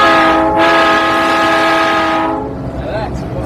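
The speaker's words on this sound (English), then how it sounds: "As the train started forward, I got to blow the whistle." A train whistle sounds loud and close as the train starts forward, a long steady harmonic blast lasting over two seconds before cutting off, followed by faint rumble and a brief trailing tone.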